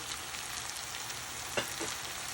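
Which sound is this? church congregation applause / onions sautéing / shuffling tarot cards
onions sautéing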